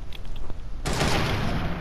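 Fortnite gunfire breaks out in a sudden dense burst after a few quieter shots, loud and sustained with no talk over it.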